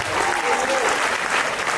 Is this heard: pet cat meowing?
no